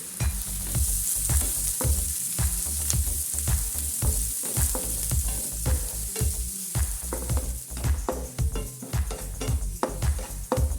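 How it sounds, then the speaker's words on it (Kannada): Chopped onion, beans, carrot and green chilli stir-fry in a pan for veg fried rice: a constant sizzle under quick, rhythmic scraping strokes of the spoon, close and busy throughout. "ನಂತರ ಇದಕ್ಕೆ ಚಿಕ್ಕದಾಗಿ ಕಟ್ ಮಾಡಿರುವಂಥ ಈರುಳ್ಳಿ, ಬೀನ್ಸ್, ಕ್ಯಾರೆಟ್ ಹಾಗೂ ಹಸಿಮೆಣಸಿನಕಾಯಿಯನ್ನು ಹಾಕಿ ಚೆನ್ನಾಗಿ ಹುರಿದುಕೊಳ್ಳಿ."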